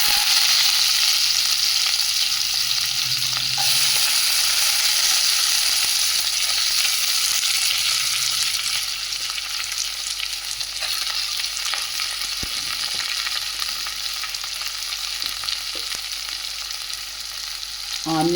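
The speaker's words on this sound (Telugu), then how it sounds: "ఆనియన్స్ ఈ విధంగా వేసి చిల్లిస్తే బాగా వేయించాలండి." Onions fry in hot oil with a steady, close sizzle that eases slightly over time, broken by a few clinks and stirring sounds, with no speech.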